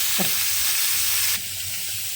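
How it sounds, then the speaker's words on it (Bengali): Cauliflower pieces frying in a pan give a steady hiss of sizzling oil that drops abruptly to a quieter sizzle partway through, with no voices. "তো ফুলকপিগুলো এখানে ভাজা বসিয়ে দিয়েছি, ততক্ষণে ফুলকপিগুলো লাল লাল করে ভাজা হোক"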